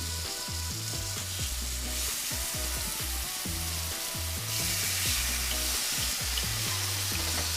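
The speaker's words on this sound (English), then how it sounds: "We're just going to sear these on both sides, and then once they're seared, add that pat of butter in there and just drench them." Red Lechwe backstrap steaks searing in very hot oil in a pan, a loud continuous sizzle and crackle that swells louder partway through, with no talking.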